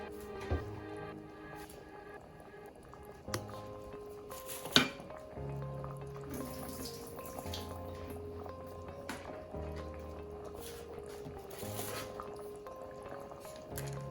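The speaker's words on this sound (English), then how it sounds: "We're gonna go ahead now and add the rice." Dry rice tipped into a pot of cooked peas for Jamaican rice and peas, giving a few soft clatters, pot knocks and wet pouring sounds close by with no talk.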